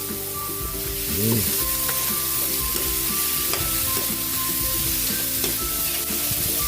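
Pork and tomato sizzle in a frying pan, a steady broadband crackle with stirring scrapes and a few clanks of utensils throughout, close and fairly loud with no talking.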